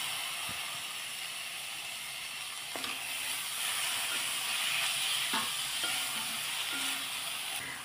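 Onion with salt, turmeric, cabbage and chopped tomato sautéing in a pan, giving a quiet, steady sizzling hiss with a few faint clinks and scrapes of stirring.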